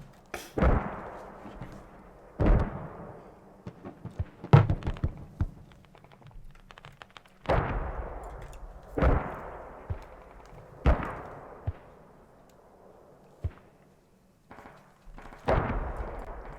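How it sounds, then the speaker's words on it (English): Gunfire and mortar explosions in the video game Squad during a tournament match: repeated sharp booming blasts with decaying tails, interspersed with clusters of smaller shots and clicks, loud and spread across the clip. "there's a lot of trading fire right now"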